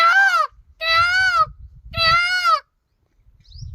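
A man imitates a peacock's call with his voice, giving three loud, drawn-out, nasal cries in a steady rhythm with short pauses between them and faint low background noise.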